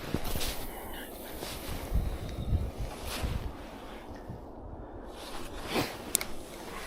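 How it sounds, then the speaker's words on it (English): Wind buffets the microphone outdoors at Southfield Reservoir during a fishing match, producing gusty rumbling roar with uneven surges. "That wind doesn't look like it's gonna change direction, which is obviously helping casting."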